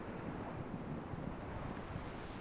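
Hurricane-force wind and ocean waves in Microsoft Flight Simulator produce a steady, heavy roar of rushing air and surf, continuous and dense with faint gusty fluctuations, and no voices.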